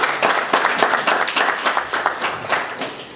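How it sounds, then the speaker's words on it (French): Audience applause at an awards launch ceremony in Cameroon, a crowd clapping with a loose, uneven patter of overlapping claps that starts full and gradually thins toward the end. "nous pouvons aussi l'applaudir"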